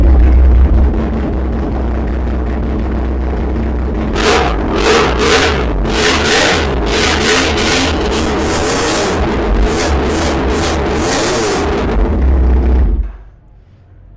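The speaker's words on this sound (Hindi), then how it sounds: "इसका साउंड ऐसे है जैसे कि 4 सिलेंडर बाइक का साउंड होता है" A 400cc Yamaha R1M replica motorcycle engine idles with a deep rumble, then revs in repeated sharp bursts before cutting off abruptly.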